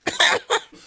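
A man coughs in three quick, harsh bursts, close and loud, each one shorter than the last, with nothing else heard around them.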